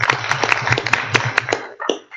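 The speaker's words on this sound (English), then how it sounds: "let's give him applause" Applause at an afternoon workshop on machine learning for 5G, a dense burst of clapping from the audience over about a second and a half before fading out, with a few stray claps at the end.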